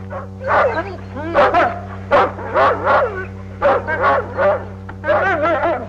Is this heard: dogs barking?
yes